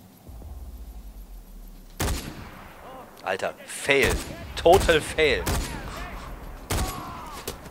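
Gunfire rings out in the video game Far Cry 4, several sharp shots and bursts spaced over a few seconds, mixed with someone talking in German over the game audio.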